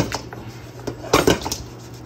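Chicken wings tossed in hot sauce inside a mixing bowl, a quick flip giving a couple of sharp clattering knocks against the bowl with soft wet shuffling around them, close and brief.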